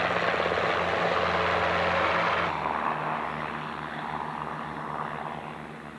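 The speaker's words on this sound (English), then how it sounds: "originally designed in 1960 as a replacement for the Hiller and Bell light observation helicopters, is seen here" A Hughes 500 light helicopter, a general-purpose chopper first designed in 1960, flying at an airshow in New Zealand: a loud, steady rotor and engine roar that eases slightly partway through, with no talk.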